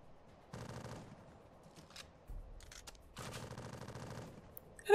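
Gunfire in the video game Exodus from the Earth comes as two sustained automatic bursts, each about half a second to a second long and moderately close, separated by a short quiet gap with a faint thud.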